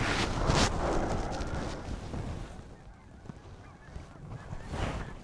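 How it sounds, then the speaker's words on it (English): A flock of geese honks during a mountain goose hunt in Oklahoma, a loud overlapping chorus of calls that swells, fades slightly midway, then rises again. "Fresh flock on the right here."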